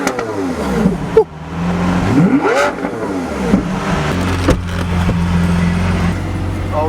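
A Lamborghini Aventador S revs and accelerates hard, loud and close, its engine note climbing and dropping through gear changes with rising and falling sweeps.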